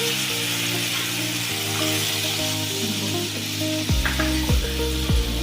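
Liquid milk hits a hot frying pan in a sweet-and-spicy ash gourd and coconut dish, giving a close, steady sizzle with a few clinks of a utensil stirring toward the end.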